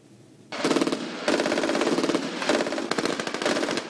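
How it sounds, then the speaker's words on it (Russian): Automatic rifles fire during military training in a forest on the outskirts of Tallinn, sustained rapid bursts beginning after a brief quiet moment, then long rattling strings of shots with short gaps, loud and fairly close. "Мужчины в камуфляже учатся стрелять из автоматов и минометов"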